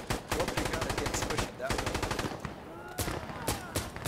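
Rapid automatic gunfire in Insurgency Sandstorm comes in loud, dense bursts with short gaps, close and continuous, with a voice faintly underneath.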